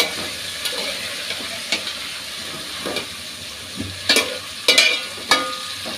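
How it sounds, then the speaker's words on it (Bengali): A silver carp fish head seasoned with turmeric and salt fries in hot oil, giving a steady close sizzle and hiss broken by a few sharp crackles and stirring clatters toward the end. "এবার আমি ভালো করে এটা একটু ভেজে নেব তেলের মধ্যে"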